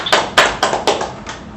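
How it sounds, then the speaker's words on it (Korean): Scattered claps from the audience at a Korean-American business breakfast forum, a few distinct separate hand claps spaced out rather than a full ovation, with no talking. "힘찬 박수 부탁드립니다."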